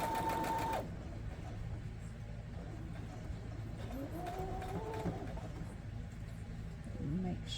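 A Mrs. Quilty pillow top sewing machine stitches a seam with a steady mechanical whir, sharper for the first second and then running on under a person talking.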